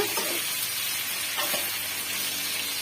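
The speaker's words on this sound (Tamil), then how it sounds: "இந்த எண்ணெயிலேயே நல்லா வந்து வெந்து வந்துருங்க உருளைக்கிழங்கு." Potatoes sizzle steadily in hot oil in a pan while being stirred now and then, a close, continuous frying hiss with a few soft scraping stirs and no talk.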